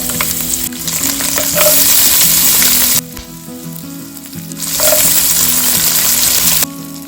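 Half a teaspoon each of mustard seeds and fenugreek sizzle loudly in hot oil in a pan for a fish curry, a steady dense crackle that swells and eases in two long surges, with no voices.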